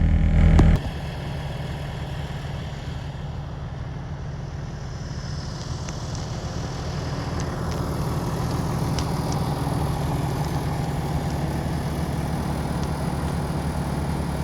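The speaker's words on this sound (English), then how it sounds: "let the diesel motor run for a little while, probably an hour or so" Diesel engine of a school bus idling in snowy cold, a low, steady, even rumble with faint clatter running continuously after a brief louder knock at the start.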